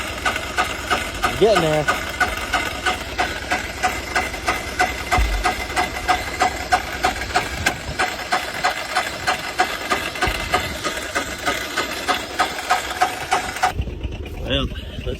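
A small Polaris diesel engine without glow plugs cranks in the cold, then chugs with a rapid, even mechanical knock that stays loud and close, a brief remark spoken over it before it cuts off near the end.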